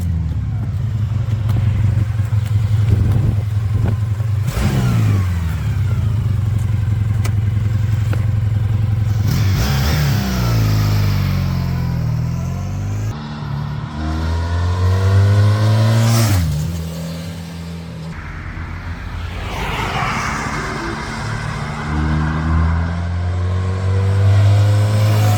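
A 1986 Honda VF1000R on its original stock pipes is ridden hard, the engine revving up and dropping back repeatedly through gear changes, loud and close throughout with rising and falling engine pitch.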